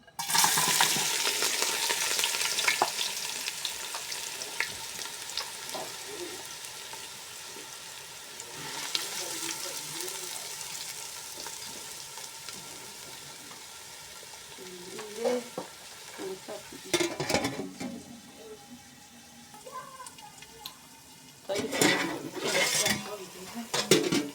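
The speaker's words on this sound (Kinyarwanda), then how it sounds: "Amavuta yacu arahiye gukaranga cya kirungo cyacu tubishyira mu gitoki." Spiced plantain frying in hot oil, a steady sizzle with frequent stirring and occasional scrapes and clinks of a utensil against the pan, with a few louder bursts toward the end.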